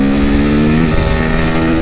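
A Honda CRF450R supermoto motorcycle idles and revs up close, a loud, buzzy single-cylinder engine note holding steady through the short stretch.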